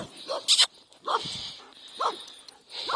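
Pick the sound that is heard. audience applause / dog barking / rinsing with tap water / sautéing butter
dog barking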